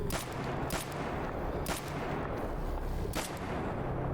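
Gunfire from a weapon in the video game S.T.A.L.K.E.R. Anomaly: a few loud, sharp shots spaced about a second apart over a dense, rumbling background, with no talking.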